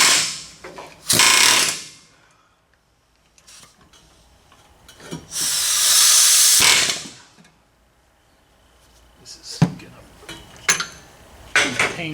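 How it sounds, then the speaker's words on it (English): Air hammer on a rusted car backing plate fires in two loud, harsh bursts, one short and one longer, followed by lighter clanks and taps of metal work. "Yes, we can with an air hammer from the back."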